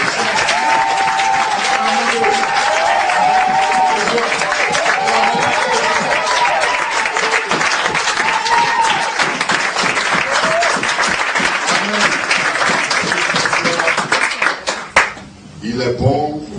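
A church congregation cheering and applauding, dense loud clapping mixed with shouting voices and ululation that goes on steadily, then quickly fades away near the end.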